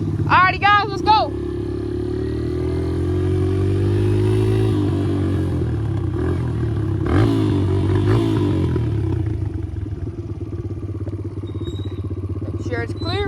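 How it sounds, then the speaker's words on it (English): A dirt bike engine drones steadily at close range as a rider sets off, its pitch rising and easing over several seconds, with voices talking over the start and a brief clatter later on. "this is the first video of me and my friend Ansley over here riding dirt bikes."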